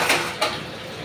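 A lid set down over a pot of lau chingri (bottle gourd with prawns) in a home kitchen, two quick metallic clinks close by, the second slightly louder, then quiet.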